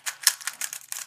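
A slow, clacky 3x3 speed cube is turned quickly, making a short run of sharp plastic clacks in close succession.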